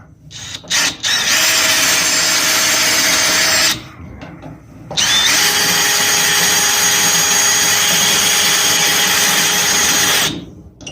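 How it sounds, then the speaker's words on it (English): A power drill whirs loudly through a metal bracket on a 1955 gasser car in two long bursts, a short one-second pause and a brief stop between them, steady high-pitched grinding throughout. "It's kind of hard holding the drill."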